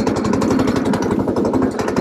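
A small go-kart engine started cold with the choke on chugs loudly and close, firing in a fast, rough, evenly repeating putter throughout.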